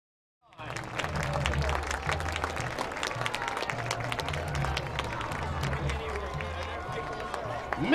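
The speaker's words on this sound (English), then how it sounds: "let's give these guys a big round of applause for all their support this season." A crowd applauds supporters of a high school marching band, breaking out suddenly after silence into dense clapping and cheering that holds steady, with some voices mixed in.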